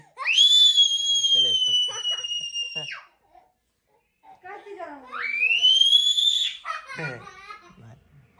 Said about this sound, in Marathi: शिट्टी वाजवली